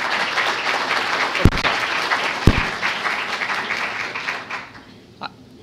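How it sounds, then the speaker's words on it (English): An audience at a business pitch competition gives a sustained round of applause that stays dense and steady for about four seconds before tapering off. "Let's give Sean a round of applause."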